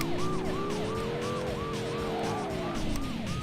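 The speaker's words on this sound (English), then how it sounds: "we've got a police car here" A wailing police siren in the Driver 2 video game, set in Chicago, repeats a steady rising-and-falling cycle over a loud car engine whose pitch climbs and then drops away.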